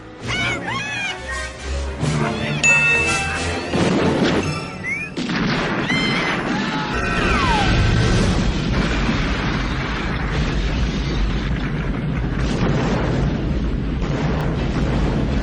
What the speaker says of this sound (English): Blowing up a supermarket.